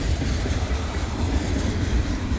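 A CSX mixed freight train rolls past at a train yard, giving a steady, loud low rumble of wheels and railcars that holds without a break, with no voices over it.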